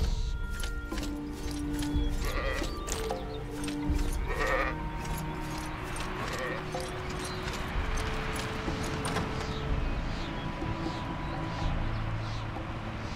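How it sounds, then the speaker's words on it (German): Sheep bleating in the video game ArcaniA: Fall of Setarrif, short bleats scattered over a busy backdrop of clopping hooves and ambient game noise. "Und wenn es nur ein Schaf ist."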